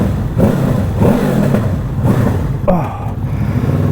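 Honda VFR800F with an SC-Project Conic exhaust, dB killer removed, revs repeatedly in a garage: four loud, close throttle blips, each rising and falling in pitch over a deep rumbling idle.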